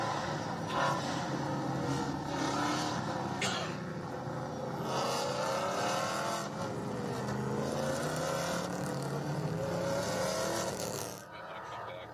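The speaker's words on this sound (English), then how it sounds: "the field heading into the VP Racing Fuels acceleration zone" GT sports cars, including a Cadillac ATS-V.R, accelerate in a pack at the race start at Virginia International Raceway, layered engine roars rising and falling in pitch as cars pass, with a commentator talking over them.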